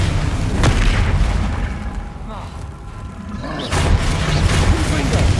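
Bombarda blasting spell in the video game Hogwarts Legacy, with deep booming explosions and rumbling low thuds amid game effects, a loud burst near the start and another swell later, under shouted voices.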